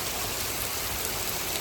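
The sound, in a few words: rain falling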